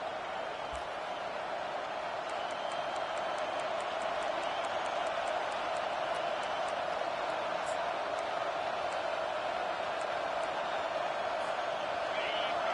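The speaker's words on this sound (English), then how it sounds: "Here comes this home crowd as the defense tries to get off the field on 3rd down." Home crowd at an LSU college football game, LSU against Tennessee, roaring steadily as the defense faces third down late in the half, a dense, sustained wash of stadium noise with scattered whistles and shouts throughout.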